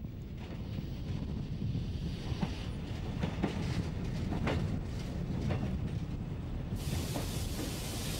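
A train from Peenemünde pulls into Zinnowitz station on Usedom, a steady rumble of rolling wheels and wagons with faint clickety-clack and wind buffeting the microphone, no voices.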